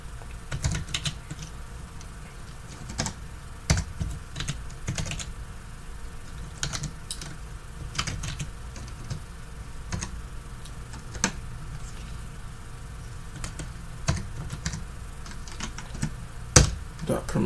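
Steady close typing of code on a computer keyboard, a continuous patter of key clicks with occasional louder strikes over a low background hum.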